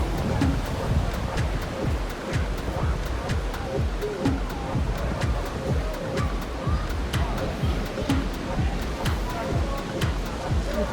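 Surf at Caves Beach in New South Wales, Australia, washing against wet rocks near the caves in a loud, constant roar with repeated splashing surges up close.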